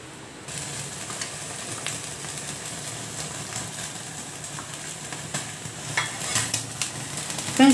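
A whole tandoori chicken cooks in a pan, giving a steady, moderate sizzle with faint scraping and a low background hum, ending in a couple of sharper clinks.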